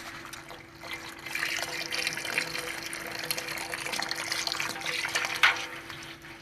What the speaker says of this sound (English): So now we're transferring all of that sparge liquid over to the boil kettle.